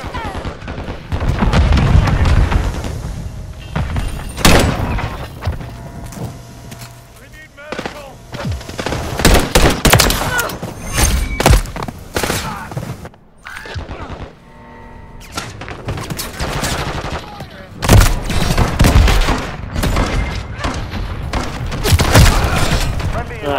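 Rapid gunfire in Modern Warfare 3 crackles in dense bursts and irregular volleys across a loud firefight, with booming thuds between shots and players talking throughout.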